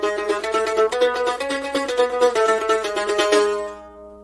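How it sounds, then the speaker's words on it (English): A short run of bowed string notes stepping up and down through a four-note Phrygian tetrachord, bright and close, ending with a sustained fading note. "It's Phrygian tetrachord."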